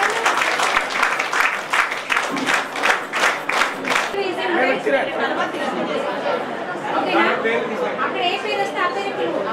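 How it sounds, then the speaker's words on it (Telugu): Audience applause rises at a women's honouring ceremony held by the Kisan Parivar Seva Dal. Strong rhythmic clapping lasts about four seconds, then fades into crowd chatter and a speaker's voice. "మనమందరము కూడా గట్టిగా చప్పట్లతో వారిని అభినందిద్దాం."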